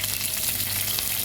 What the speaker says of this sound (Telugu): ఇవన్నీ మనం 1 నిమిషం ఫ్రై చేసుకున్నామండి.